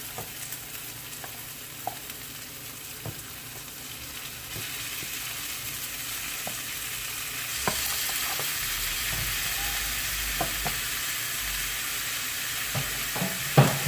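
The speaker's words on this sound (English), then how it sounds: "Now I'm going to add my turkey." Ground turkey frying in a pan on a stove, a steady close sizzle with the scrape and clink of stirring breaking through every second or so, the sizzle growing louder partway through.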